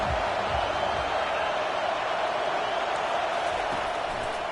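A football video game plays a stadium crowd as a steady, dense roar, loud and unbroken, with no speech heard.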